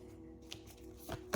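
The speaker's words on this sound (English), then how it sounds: "I'm having trouble shuffling." Tarot cards are shuffled clumsily by hand during a reading. Soft, faint papery riffles and taps come in a few short bursts close by, with no talk over them.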